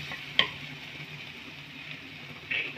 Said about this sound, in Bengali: 3 থেকে 4 মিনিটের মতন মশলাটাকে আমি কষে নেব।